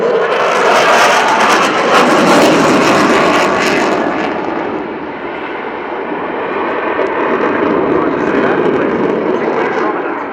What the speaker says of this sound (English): another high alpha flypast